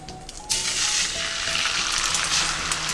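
Beaten egg and imitation crab mixture hits plenty of hot oil over medium-high heat, bursting into a loud, steady, close sizzle after a quieter opening moment, with no talking.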